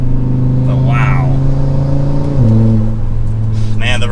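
A 2024 Subaru WRX TR engine pulls hard under acceleration, a loud steady drone that climbs in pitch, drops with a gear shift, then builds again, with a voice talking over it.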